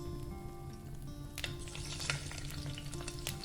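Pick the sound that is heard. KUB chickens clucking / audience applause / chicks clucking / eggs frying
eggs frying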